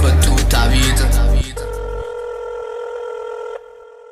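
A telephone rings in a couple of loud electronic bursts, then a clean sustained tone follows as voicemail picks up, the sound cutting off abruptly near the end.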